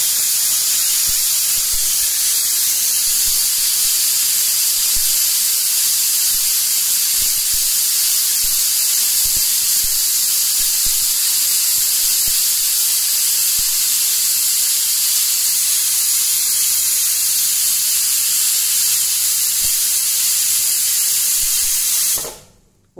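Pressure cooker venting steam while cooking sambar, a loud continuous hiss that holds steady for over twenty seconds and cuts off abruptly at the end.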